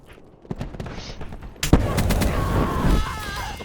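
Video game gunfire and artillery firing for effect, a scattered run of sharp close shots that swells into a dense, loud barrage of overlapping bangs and rumbling impacts.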